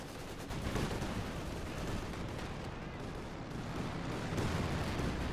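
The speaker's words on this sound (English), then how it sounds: "Flak Emplacement there opening up at the troops then close range, also opening up in the Russian aircraft as Ashablois calls in the IL-2 Sturmovix." A flak emplacement in the real-time strategy game Company of Heroes 2 fires in a dense, continuous barrage of loud gunfire and explosions that fills the whole stretch without pause.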